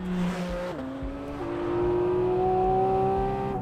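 A Porsche Cayman engine revs hard as the car slides, a loud rising howl with the pitch dropping at a shift and then climbing steadily, heard close with faint tire noise underneath.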